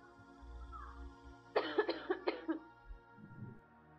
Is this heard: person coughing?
yes